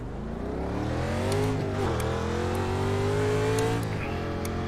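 A NASCAR race car engine in the iRacing sim at North Wilkesboro Speedway, a steady, close engine drone that rises gradually in pitch, dips briefly, climbs again, then eases off, with no voice over it.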